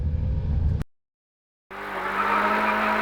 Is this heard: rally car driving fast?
yes